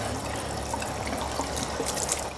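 Water streams steadily from a push-button drinking fountain in a state park bathhouse, a close, continuous splashing trickle with no voices.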